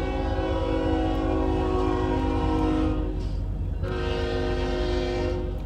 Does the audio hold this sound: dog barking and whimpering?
no